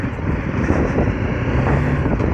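BMW G310 GS single-cylinder motorcycle being ridden on the road: a steady, close engine drone blends with rushing wind noise across the whole stretch, with no talk.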